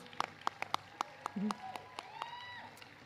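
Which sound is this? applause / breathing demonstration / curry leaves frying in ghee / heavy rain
applause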